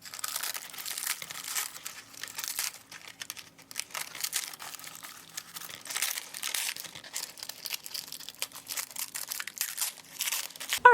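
A vintage doily bowl is peeled off a metal bowl form, giving a steady run of close, dry crinkling and crackling with small bursts of stiffened fabric separating, and no voices.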